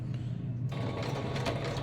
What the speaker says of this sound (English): this is not a fancy sewing machine